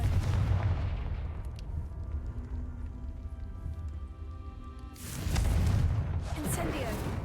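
Confringo explosive spell cast in a Hogwarts video game gives a heavy booming blast at the start, followed by a second burst of explosive rumble near the end, with game speech and a voice around them.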